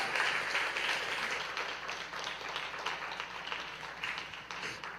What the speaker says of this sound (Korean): 우리 목사님 소개할 때 큰 박수로 같이 맞이하도록 하겠습니다.